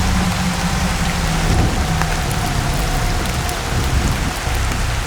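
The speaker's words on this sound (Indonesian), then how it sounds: "tiba-tiba hujan" A sudden downpour in a forest at night, a loud, dense hiss of rain on leaves and ground that keeps on steadily with no let-up.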